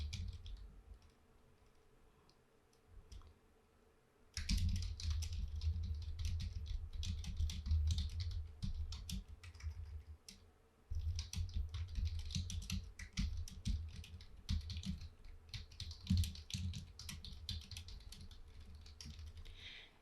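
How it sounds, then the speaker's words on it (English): A computer keyboard is typed on at close range in quick, uneven bursts of clicking keystrokes that start after a few quiet seconds, pause briefly midway, then resume. "And I'm just typing in a message."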